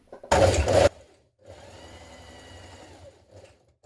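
A home sewing machine runs in a steady, close whir as it edge stitches around a dress collar, following a brief loud burst of handling noise at the start.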